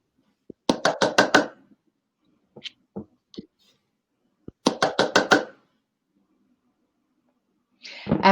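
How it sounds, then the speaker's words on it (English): Two bursts of rapid knocking on a door or hard surface, about six quick raps each, near and fairly loud, separated by a few scattered fainter taps in a quiet room. "That knocking noise."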